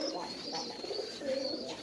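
A caged pair of Punky pigeons cooing softly, a few low murmuring coos close by, faint and repeated over a quiet background.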